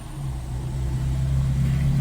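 A passing truck rumbles steadily, a continuous low engine drone that swells slightly louder over about two seconds, with no voices.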